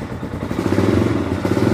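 A carbureted 2025 CF Moto 230 Dual Lite motorcycle engine, cold and on choke, turns over and settles into a steady, close, loud idle that picks up slightly, with a low rhythmic thrum throughout.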